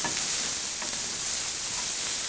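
Chopped bacon and garlic sizzle loudly in a pan as they are stirred together, a dense, even frying hiss that runs throughout at close range.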